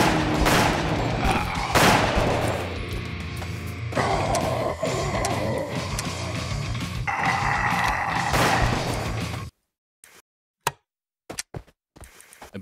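Rapid bursts of gunfire in a stop-motion zombie outbreak animation, loud and dense for about nine seconds, then silence broken by a few sharp isolated shots.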